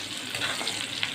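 Onions hit a hot pan and sizzle steadily in a continuous, close frying hiss while a curry of pointed gourd in coconut milk is being cooked.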